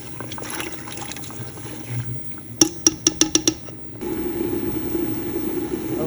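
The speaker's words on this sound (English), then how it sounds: "Okay, so now it's coming to a good rolling boil" A pot of dye water with avocado pits bubbles close by at a rolling boil, with a brief run of sharp ticks partway through and a louder, steadier bubbling in the last couple of seconds.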